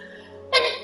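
A single sharp human sneeze bursts out abruptly after a quiet stretch of faint background hum, loud and close, then tails off quickly.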